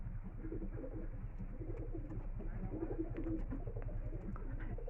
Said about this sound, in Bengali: এটা একটা মাদা পায়রা, কালপল কালদম, খুব বিগ সাইজের পায়রা।